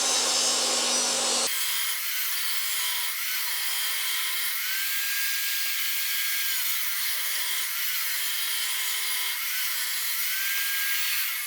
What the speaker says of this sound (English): It's not the best blade in the world, that, for doing rip cuts, but it's fine.